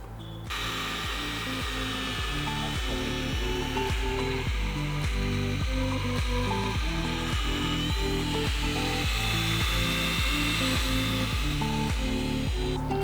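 A Porsche Cayenne headlight is sanded with 500-grit abrasive, giving a steady run of rhythmic, evenly spaced rasping strokes over a constant background hum.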